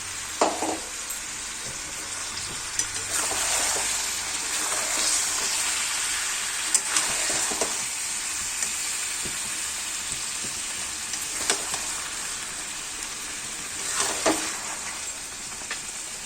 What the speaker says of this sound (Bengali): কষানো অনেকটাই হয়ে গেছে, এবার ধনে পাতাটা দিয়ে দিলাম আর কি।